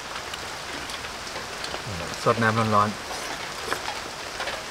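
Rain falling in a forest during outdoor cooking, a soft steady hiss throughout, with a brief spoken phrase over it.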